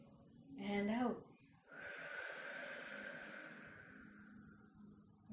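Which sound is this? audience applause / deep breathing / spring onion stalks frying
deep breathing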